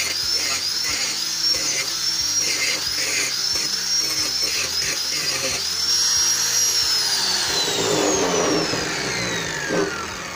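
Grinder removing weld spatter from a beveled flat bar, a high whining motor whose pitch rises and falls as it bears on the steel, with someone talking over it.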